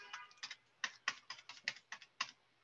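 Typing on a computer keyboard, a quick irregular run of about a dozen crisp key clicks, close and fairly quiet, with no voices.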